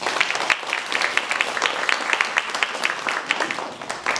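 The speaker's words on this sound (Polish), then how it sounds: "Wielkie, wielkie brawa dla Was." Applause from an audience at a regional carol and Christmas song festival in Korsze, a dense wash of clapping that continues steadily without pause.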